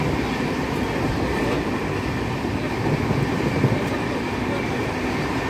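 A passenger train on the Kolkata to Vellore route runs with a steady, loud rumble and rolling rail noise that fills the whole stretch, with no clear pauses or separate events.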